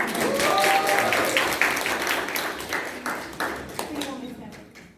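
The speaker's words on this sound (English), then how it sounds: "Okay, we're gonna clap her up." Audience clapping for a woman called up to speak at a self-advocacy leadership institute, dense and steady at first, then thinning and fading out toward the end, with a voice speaking over it.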